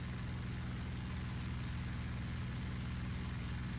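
Constant droning radial-engine hum of a P-47 fighter in the IL-2 Battle of Stalingrad flight sim, sustained and even during a climb at about 200 knots, alone with no speech.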